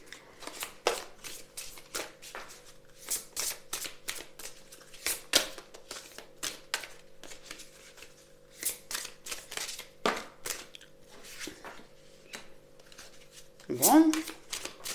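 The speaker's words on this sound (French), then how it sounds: "je vais prendre 2 cartes de l'oracle haute vibration de Jenna Blossom" Oracle cards being shuffled by hand, repeated rapid riffling bursts at close range in an irregular rhythm, with a louder rustle near the end.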